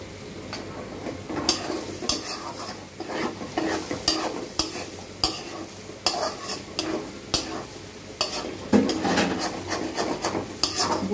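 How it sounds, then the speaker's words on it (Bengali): Chickpeas and potatoes sizzle and dry-fry in a pan while a utensil scrapes and stirs them in repeated strokes, with sharp scraping clicks over a steady low frying hiss and no talking. "বুটের মধ্যে কোনো পানি থাকা যাবে না, একেবারেই ভাজা ভাজা করে নেব।"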